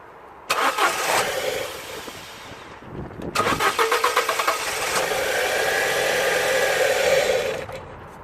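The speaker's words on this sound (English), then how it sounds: "while the car has easy start, it runs absolutely fine" A 2007 Ford Ka with a 1.3 petrol engine, parked for two years, cranks and catches briefly, then cranks again in rapid pulses before starting and settling into a loud, steady close-up idle.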